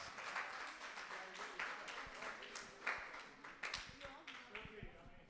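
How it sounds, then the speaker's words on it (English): Audience applause at a youth hackathon in New York City, a quiet, steady wash of many hands clapping with scattered louder claps, with people talking underneath. "Again, give yourselves a round of applause."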